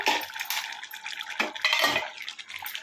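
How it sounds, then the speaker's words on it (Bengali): A metal lid comes off a cooking pot of simmering Bengali dak bungalow chicken curry, giving a few close clinks and scrapes of metal against metal, with no voices. "এবারে ঢাকাটাকে খুলে দেখে নেব কোন পর্যায়ে এসে পৌঁছেছে"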